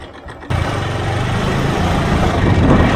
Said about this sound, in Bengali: এই যে আমাদের মোটরসাইকেল।